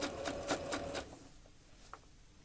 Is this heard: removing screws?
no